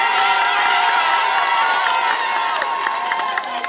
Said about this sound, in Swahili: Piga makofi kwa wana Kibada